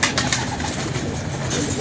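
Pigeons cooing in a loft in Lahore, soft overlapping coos over a dense, steady bed of bird noise and rustling, close and continuous for a brief moment.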